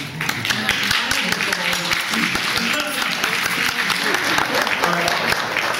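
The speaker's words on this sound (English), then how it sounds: "give me an applause for Becky" Loud, sustained applause from a large crowd at a Walt Disney World anniversary party for D23, dense overlapping clapping that carries on for several seconds with voices mixed in.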